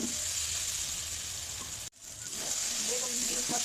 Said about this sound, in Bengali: এখন এই বেগুনগুলো দিয়ে মশলার সাথে কষিয়ে নেব।